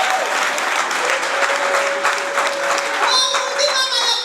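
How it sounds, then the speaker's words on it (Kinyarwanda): Sustained applause from a crowd at a church gathering fills the room, loud and dense, with a voice sounding briefly over the clapping. "amashyi"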